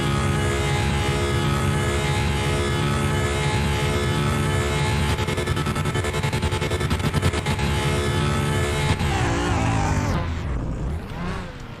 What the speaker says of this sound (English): The car did manage 248 before the engine started getting messy.